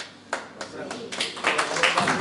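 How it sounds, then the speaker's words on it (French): Schoolchildren clap at an annual school mass held for a school group: a few scattered claps swell into a dense, building round of applause, close and lively, with voices mixed in beneath it. "Bravo, applaudissez bien pour lui"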